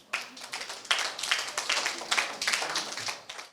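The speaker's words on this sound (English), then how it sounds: "Clap for yourselves" Schoolchildren on an excursion applaud themselves in a brief burst of ragged, overlapping claps in a room, fairly close and lively, tapering off after a few seconds.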